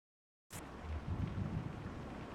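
A thunderstorm in the video game Kentucky Route Zero: after a silent start, a deep rumble of thunder rolls in under steady rain and dripping, moderately quiet and continuous.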